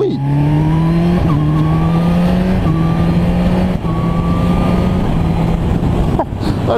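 Kawasaki H2 motorcycle from 2016 accelerating hard, loud and close, its engine note climbing in steady sweeps broken by several quick quickshifter gear changes, a brief throttle lift near the end.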